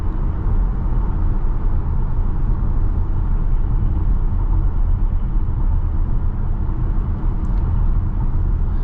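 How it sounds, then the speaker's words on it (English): Road noise inside a Tesla Model Y on the move: a loud, continuous low rumble and tire roar fills the cabin steadily, with no talking. "there's more audible road noise impacts than actual suspension impact from the chassis that you feel in your body"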